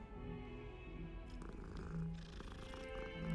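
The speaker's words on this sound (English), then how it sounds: "Game lets you pet cats, 10 out of 10." Cat in Hogwarts Legacy purring while being petted, a soft steady rumble running continuously and close, with no speech over it.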